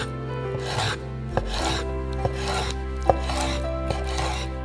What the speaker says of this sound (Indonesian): Yang terakhir adalah paha ayam. Mari kita potong-potong.